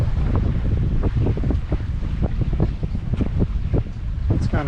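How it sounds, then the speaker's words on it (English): Strong wind buffets the microphone aboard a sailing yacht off Scotland near Rum and Skye, a constant roaring rush with gusty pulses and faint water wash beneath, loud and unbroken. "9 knots of actual wind speed"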